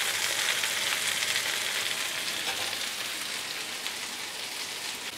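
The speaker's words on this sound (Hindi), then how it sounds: "तो बीच बीच में चलाते हुए हम सोयाबीन को फ्राई कर लेंगे।" Soybean chunks fry in a pan with a steady, dense sizzle, a close and continuous crackle that holds level throughout while occasional stirring shifts it slightly, with no voices.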